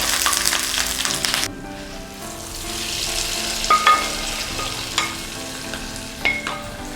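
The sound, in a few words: beef curry being mixed and fried in pan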